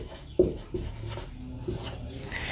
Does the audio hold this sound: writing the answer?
yes